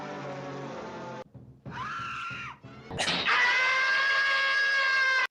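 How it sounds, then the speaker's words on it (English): Tom and Jerry cartoon scream effect, three loud shrill bursts in a row, the last one the longest and loudest, with no talking. "The Tom and Jerry scream."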